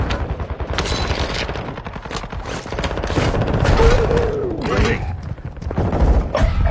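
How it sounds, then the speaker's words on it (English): Loud rapid gunfire from an online video game shooter rattles almost without pause in dense bursts and fusillades, with a faint voice briefly under the shots. "I'm shooting you in the face, brother"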